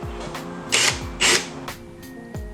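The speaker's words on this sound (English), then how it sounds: "drill the holes in the box to accommodate the brass inserts" Holes are drilled into a box to take brass inserts, heard as two short, loud drill bursts a half-second apart, with quieter mechanical clicks and a steady tonal background.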